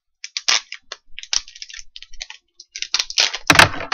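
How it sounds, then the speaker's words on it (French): New earphones are unboxed from their packaging, with close, crisp crinkles, clicks and rustles in quick irregular bursts and a louder scrape near the end, with no speech. "ce sera le grand déballage des écouteurs"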